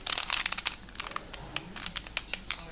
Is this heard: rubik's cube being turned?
yes